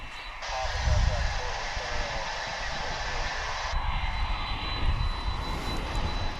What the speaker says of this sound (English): take a good close look at this 767 now parking, pulling right in